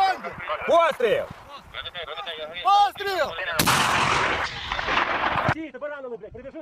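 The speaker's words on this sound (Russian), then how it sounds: "Выстрел!" A loud burst of gunfire rings out for a couple of seconds, surrounded by people talking and shouting close by.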